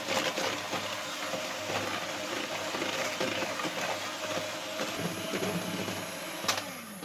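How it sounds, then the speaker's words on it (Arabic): Eggs being beaten with sugar for cake batter produce a continuous mechanical whirring drone that holds steady throughout, with a brief clatter near the end. "غادي ناخذوا البيض ديالنا، غادي نضربوه مع سكر سنيده حتى يضاعف لنا الحجم ديالو"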